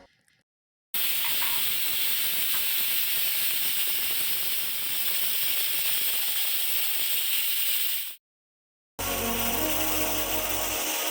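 A pressure cooker of sambar on a stove vents steam in a loud, continuous hiss lasting several seconds before cutting off abruptly. A different, tonal sound follows after a short gap.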